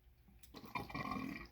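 Water drains through a loop siphon in a small DIY classroom hydroponic system made with bottles, starting as a quiet trickle and swelling into a steady gurgling flow, close by with no talking.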